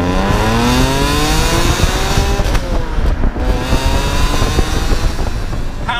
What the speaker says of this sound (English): reason number one has to be the engine and the sound that it makes